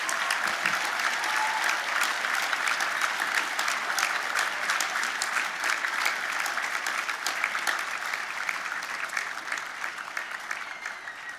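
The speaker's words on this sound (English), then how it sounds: "give them a round of applause" An audience at a university graduation ceremony applauds steadily for about eleven seconds, a dense and even clapping from a large hall that fades a little near the end.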